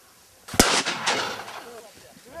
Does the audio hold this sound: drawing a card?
no